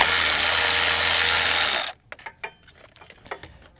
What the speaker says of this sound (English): you got to get your dewalt, and you got to pull these 3 bolts out of there.